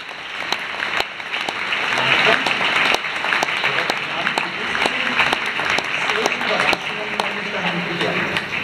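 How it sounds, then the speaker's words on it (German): Gala audience applauding at a charity event, sustained dense clapping with sharp individual claps standing out, while a voice talks over it at times. "Applaus für Robert Glock."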